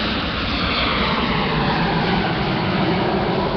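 An airplane passes overhead with a loud, steady broadband engine roar that fills the whole clip without a break.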